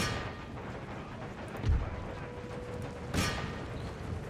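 Cannons fire in the Empire: Total War battle, with two heavy booms about a second and a half apart rising over a steady rumble of battlefield noise.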